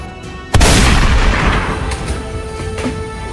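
A loud gunshot-like boom goes off once in a dramatic scene of a student short film, a sharp blast followed by a long rumbling decay with no talking.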